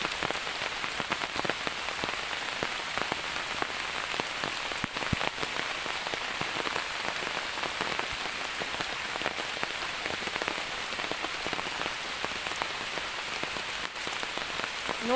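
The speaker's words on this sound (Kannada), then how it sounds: "ಯಮ್ಮ ಭಯಂಕರ ಮಳೆ ಮಾತ್ರ ಈ ವರ್ಷದ್ದು ನೋಡಿ." Heavy monsoon rain drumming steadily on surfaces near a coastal riverside home during flooding, a dense, unbroken hiss with no pauses for the whole stretch, loud and close, with no voices.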